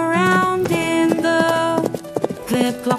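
Rhythmic clip-clop of horse hooves, a steady knocking trot mixed into a bright, musical children's song about horses on a farm.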